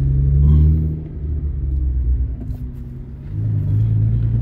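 A 2010 Nissan GT-R R35 rounding a corner, heard as a close, loud low engine rumble that swells, eases and swells again.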